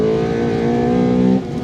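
Close and loud, a 1992 Honda Integra XSi's 160-horsepower VTEC engine revs under acceleration, holding a strong, rising tone before easing off near the end.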